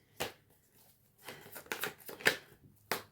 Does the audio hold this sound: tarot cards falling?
yes